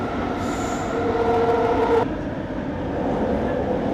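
An LRT train carriage runs along the track, heard loud and close from inside with steady rumbling rolling noise and a thin wheel squeal that fades after a couple of seconds.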